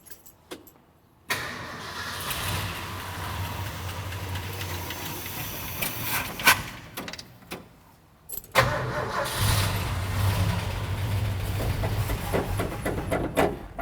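A Ford F-100 pickup that sat in a field for 10 years cranks over and over without fuel, the starter churning loudly in two long runs with a brief pause between.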